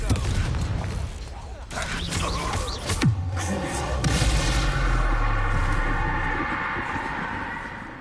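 Loud blasting and booming from spell combat in Hogwarts Legacy, with heavy explosive impacts and crackling debris that rumble on under a continuous wash of noise.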